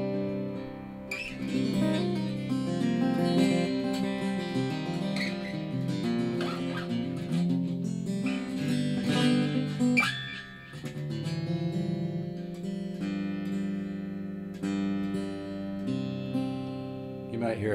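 Rare prototype Larry Coryell electric guitar made in Japan, played in DADGAD tuning, rings out in sustained, chiming chords and melodic lines, close and steady throughout, with a faint fan hum behind it.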